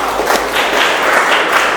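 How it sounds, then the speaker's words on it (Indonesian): Small group clapping for a child named Ulan after she explains how to cook fried rice, close and fairly loud with a steady, uneven patter of hands. "tepuk tangan untuk Ulan ya"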